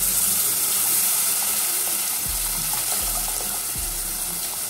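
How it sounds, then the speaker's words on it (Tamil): Tamarind water is poured into a pan of frying onions and chillies, making a steady loud hiss and sizzle with a few low splashes and no voices. "இப்போ வந்து நம்ம புளிக்கு அரைச்சல கொஞ்சம் கெட்டியாக கரைச்சி ஊற்றிக்கலாம்."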